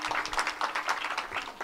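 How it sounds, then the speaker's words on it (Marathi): Applause rises from a kirtan audience in Maharashtra, a dense continuous patter of many hands that swells and dips over a short stretch. "टाळ्या वाजवा एकदा आमच्या बुलढाण्याच्या."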